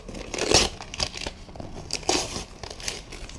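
A leopard-print chocolate snack wrapper from a Tokyo haul is torn open up close, giving crinkly bursts of plastic tearing and rustling with brief louder rips and quieter crackles in between.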